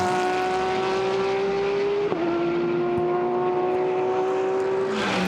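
A Porsche 991 GT3 race car in a GT endurance free practice session at Monza roars past at high revs, its engine note climbing, dropping briefly at a gear change, then climbing again, loud and close.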